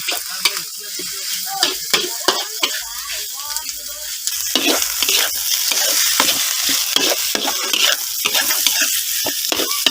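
Field rats being stir-fried in a pan, Isan style, with loud continuous sizzling and repeated scraping and stirring strokes close by throughout.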